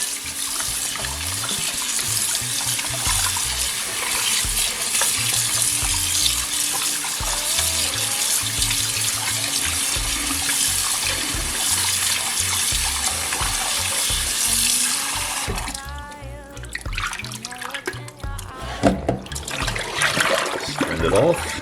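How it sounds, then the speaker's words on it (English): Tap water runs steadily into a deep bowl set in a sink, a continuous loud hiss and splash that shifts to a more gurgling, bubbling fill toward the end. "Let's get some water in there."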